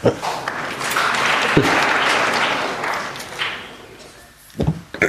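An audience at an evening satsang in an Ahmedabad ashram breaks into loud, sustained clapping that swells and then fades, with a few sharp claps near the end.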